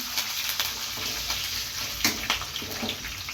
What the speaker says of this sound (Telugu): కరివేపాకు వేసిన చిట్టపట్టలాడుతుంది ఆడుతుంది